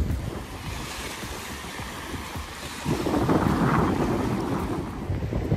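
Waves washing onto a pebbly, rocky beach by the sea, a continuous rushing surf that swells louder partway through, with wind buffeting the microphone and no talk.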